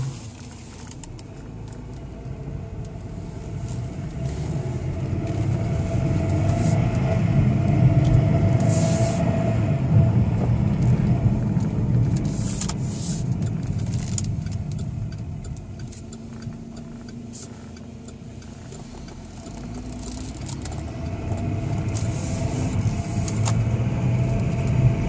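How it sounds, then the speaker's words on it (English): A 2009 Cadillac CTS with a V6 engine on a test drive, its steady mid-pitched engine and road hum rising and falling gently throughout, heard from inside the cabin with no talking. "Let's go ahead and take this vehicle for a test drive now."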